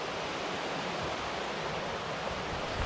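A calm eddy on a river stretch near a waterfall at a wild campsite gives a steady, soft wash of flowing water, even and unbroken throughout, with no voices.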